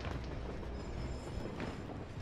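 Train rolling along in Call of Duty Modern Warfare, a steady dense rumble of rail noise with faint clatter, continuous and fairly loud throughout with no talking.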